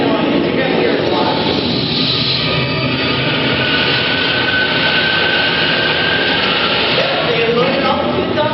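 A train in a bootleg film sends a steady, dense rumble through the whole stretch, with voices and soundtrack layered over it at constant loudness.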